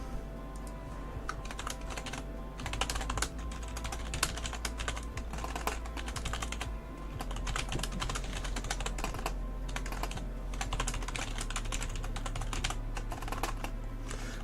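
Rapid typing on a computer keyboard, a dense, continuous patter of close key clicks running steadily throughout with no pauses.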